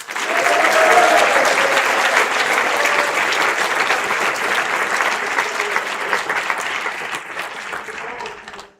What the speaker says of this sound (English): Please give a giant round of applause for Mr. Philip Sinak.